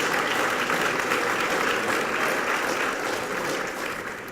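Steady, dense applause from a crowd at a teaching excellence award ceremony, loud and continuous throughout before easing slightly at the end.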